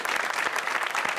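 A studio audience breaks into dense, even applause that fills the whole brief moment, many hands clapping together close and steady.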